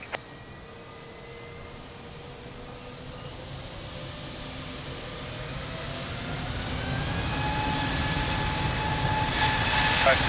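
A jet airliner takes off from runway 02 at Lisbon Airport, its engine roar building steadily and growing louder, with rising whining tones, heard from a distance.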